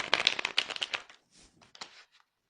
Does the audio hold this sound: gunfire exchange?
no